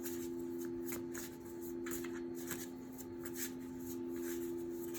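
Tarot cards being shuffled and drawn, soft papery riffles and flicks in a quick patter, close but quiet over a steady electrical hum.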